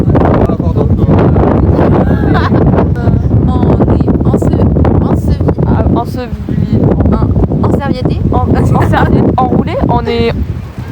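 Wind buffets the microphone at a beach, roaring and gusting loudly and continuously while several people talk throughout.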